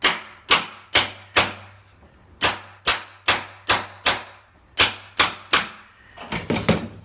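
Hammer blows driving a butt gauge into the edge of a wooden door for hinge mortising, sharp close taps in quick clusters, about a dozen strikes with short pauses, ending in a rapid flurry of lighter hits.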